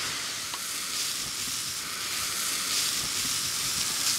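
Vegetables for a fennel and lentil pie sizzle in a hot pan, a steady close hiss of frying with a few faint stirring knocks and no talk.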